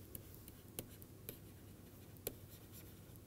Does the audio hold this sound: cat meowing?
no